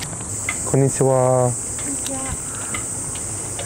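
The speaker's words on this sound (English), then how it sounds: "that's the sound of many Japanese cicadas" Many Japanese cicadas drone in a steady, high, unbroken chorus across a university campus in Japan, filling the whole clip at moderate loudness while a person briefly speaks a greeting over it.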